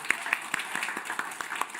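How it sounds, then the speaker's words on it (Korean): Church congregation applauding during a Sunday worship service, a short burst of dense, steady clapping with sharp individual claps standing out, at moderate level throughout. "자, 우리 박수 한번 크게 주세요."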